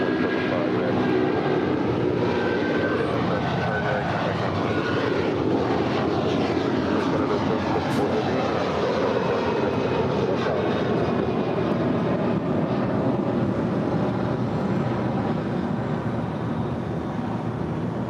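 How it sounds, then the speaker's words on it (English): An Air Canada Airbus A330-300 airliner at Los Angeles International Airport, flight 774 bound for Montreal, produces a steady, loud jet engine roar that holds constant throughout, broad and close. "That was Air Canada flight 774 heading to Montreal."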